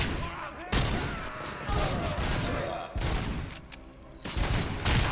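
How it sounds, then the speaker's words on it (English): RoboCop's gun firing in RoboCop: Rogue City, repeated loud shots in quick volleys over a busy combat backdrop, with speech in between. "I have to shoot him in the dick"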